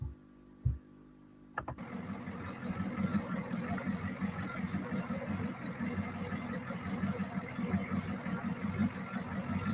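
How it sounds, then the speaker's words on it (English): A small engine catches after a couple of sharp knocks, then settles into a steady, fairly quiet idle with a continuous mid-pitched rumble. "That's when I first got it idling better"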